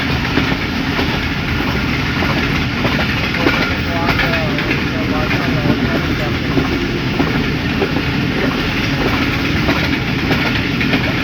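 The Tezgam Express passenger train runs on the rails between Karachi and Lahore near Kot Lakhpat, a loud, continuous close-up rumble with faint rhythmic clickety-clack from the wagons.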